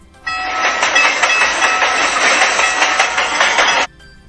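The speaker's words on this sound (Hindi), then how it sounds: "रेलगाड़ी की आवाज ऐसी होती है" Google Assistant plays a recorded train sound: a steady clattering rail rumble with a faint horn-like tone, lasting about three and a half seconds and then cutting off abruptly.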